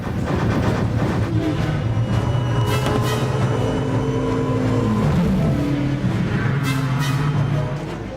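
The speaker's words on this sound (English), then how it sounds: "it became the basic sound for the maglevs" A futuristic maglev vehicle sound from the film Minority Report, built from sounds inside a washing machine: continuous loud mechanical whirring with shifting electrical hums and tonal whines, rising and falling steadily throughout like a humming engine.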